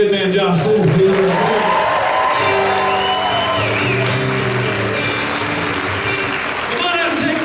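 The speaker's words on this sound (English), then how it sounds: "One more time, a big round of applause for our good man Josh Setterfield." Loud, continuous applause from a live show audience, dense clapping and crowd noise with some cheering, while a voice speaks over the din.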